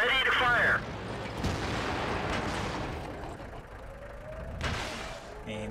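Tank cannon fire in the video game World of Tanks: a loud boom opening the clip, with a rumbling blast tail and a second shot-like burst near the end, amid battle noise and voices.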